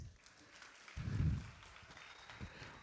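A church congregation at a celebration service gives a brief round of applause for a fellow member, faint and somewhat distant, swelling for a moment before fading into room murmur.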